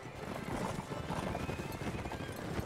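In the Mount&Blade Warband video game, a horse neighs over steady clip-clopping hooves amid a dense, continuous battle din, with a faint voice underneath.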